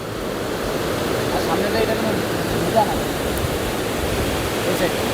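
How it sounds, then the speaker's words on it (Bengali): A fast river current rushes past below the Lower Paren viewpoint, on the road from Jhalong to Bindu where the river divides India from Bhutan's hills; a loud, steady, unbroken roar of water fills the whole stretch. "কি জলের স্রোত।"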